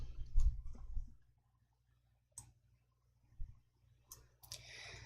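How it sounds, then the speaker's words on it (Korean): A computer mouse clicks while working in Excel, a handful of crisp, separate clicks spaced apart in a quiet room, with a brief low murmur at the start. "행 높이 18로 입력하시고 확인을 클릭"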